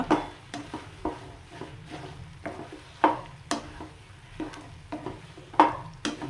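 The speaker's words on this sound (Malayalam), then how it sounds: "ഇനി നമ്മൾ നന്നായി മിക്സ് ചെയ്ത് യോജിപ്പിച്ചെടുക്കുക" Cooked tapioca (kolli) being stirred and mixed with egg in a pan, with repeated close scrapes and taps of a utensil over a faint low sizzle, with no talking.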